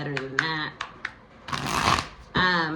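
A deck of tarot cards is shuffled in several quick riffling bursts, with a longer rush of cards in the middle; a voice talks between the bursts.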